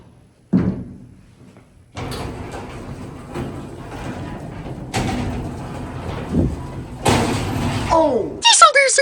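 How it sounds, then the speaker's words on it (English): A metal freight elevator gate slams shut with a sharp bang inside a small hydraulic elevator at an art center building, followed by rattling clanks and further door knocks, close and loud, with muffled talking in the background. "I did not mean to slam that gate."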